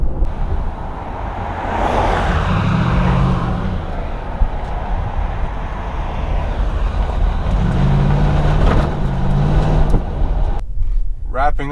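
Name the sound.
Nissan Titan Pro4X truck driving at about 50 mph, wind noise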